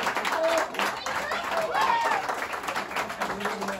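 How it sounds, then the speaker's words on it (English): Audience applause in a music hall during an acoustic holiday set, a steady wash of clapping with crowd noise and voices talking over it throughout. "everyone please give a round of applause"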